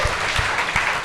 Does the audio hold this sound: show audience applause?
yes